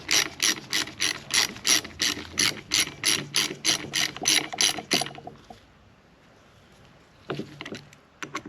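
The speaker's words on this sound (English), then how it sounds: "Go get the torque wrench." A torque wrench ratchets rapidly on the clutch basket bolts of a Honda CR250R, a fast string of about sixteen sharp, evenly spaced clicks, then a pause and a couple of brief clicks near the end.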